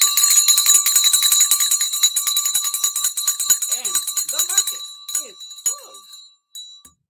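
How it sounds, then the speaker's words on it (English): A stock exchange closing bell rings steadily for about five seconds, its bright sustained tone fading out, while voices talk and cheer over it. "We got the bell in."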